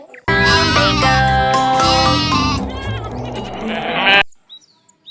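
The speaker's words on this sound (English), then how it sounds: "G for goat" A goat bleats in a kids' alphabet phonics song, its long wavering cry layered over loud bright music, then the track cuts off to near silence.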